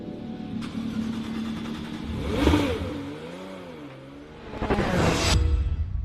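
A car engine revs up and down twice, with rising and falling pitch sweeps, fairly close and loud against a rumbling background.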